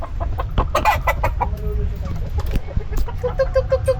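Chickens cluck close by in a coop, giving a busy mix of short calls and rising squawks that carry on throughout, with people talking over them.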